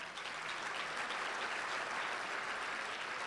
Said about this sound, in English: Would you join me in giving them a big round of applause?